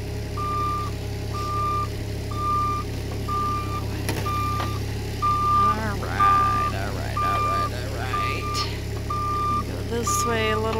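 An excavator lifts a water tank hung by rope, its engine rumbling low and steady while a regular series of backup beeps repeats over it; a voice speaks intermittently nearby.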